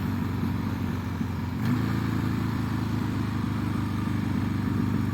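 A 2006 Harley-Davidson Sportster 1200 under way, a steady low engine rumble mixed with road and wind noise, continuous and close.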